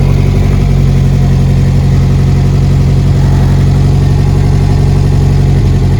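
Renault 4L engine idling after a cold start, a loud, steady low rumble with a throbbing, slightly uneven beat that runs the whole time, close to the car, with no talk over it.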